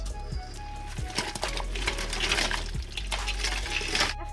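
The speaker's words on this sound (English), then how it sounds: "I am gonna pour my" A clattering, rattling pour of crawfish into a boiling metal pot, with scattered knocks and a steady rushing wash of sound throughout, fairly close.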